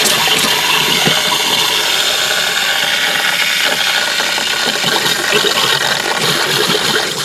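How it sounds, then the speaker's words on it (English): Water from an RV shower head pours steadily during winterizing, a loud continuous hiss and spray with no pauses and no voices. "I'm going to pull the shower down, turn the water on, and do the shower head as well"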